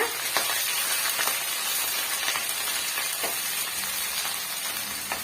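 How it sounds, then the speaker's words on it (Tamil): Green chilies fry over a medium flame in a pan, giving a continuous, fairly loud sizzle and hiss with small crackles and pops scattered throughout. "பச்சை மிளகாவை சேர்த்துக்கலாம் சேர்த்துட்டு மீடியமான ஃப்ளேமில் வச்சு நல்லா வந்து வறுத்து விட்டுக்கலாங்க"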